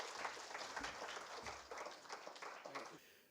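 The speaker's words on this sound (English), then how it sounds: "Let's give him a big round of applause," Audience at a literature festival applauding to welcome a speaker, faint steady clapping from a crowd that tapers off near the end.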